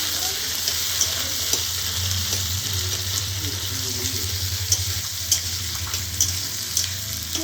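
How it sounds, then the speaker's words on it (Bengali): Onion and capsicum frying in hot oil for chili chicken, a steady close sizzle with light stirring clinks and scrapes scattered through it. "পেঁয়াজ ক্যাপসিকামটা একটু ভাজা ভাজা করে নেব।"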